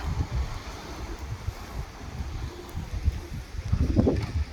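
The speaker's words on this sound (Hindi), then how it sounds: "सुबह तो इतनी हाइट नहीं थी वेव्स की, अभी काफ़ी ज़्यादा है।" Sea waves churned by Cyclone Shaheen at Muscat wash and surge with a low rumbling roar under gusty wind buffeting the microphone, building to a louder crash near the end.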